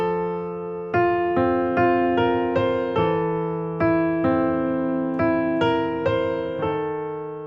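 Piano plays the opening measures of a song slowly, a steady series of full chords struck one after another with ringing sustain, close and clear with no talking.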